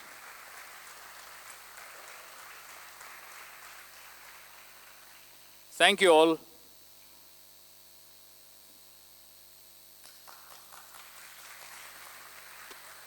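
An audience applauds the Global Ocean team at a company listing ceremony, a steady wash of clapping that stops while someone briefly speaks, then picks up again more lightly near the end.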